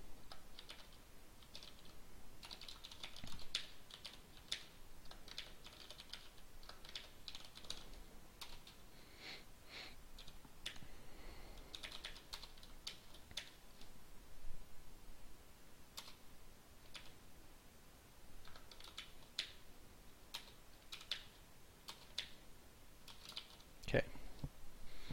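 Typing on a computer keyboard during a coding session, a steady patter of close, sharp key clicks in uneven bursts and runs throughout, with a few louder taps, no talking.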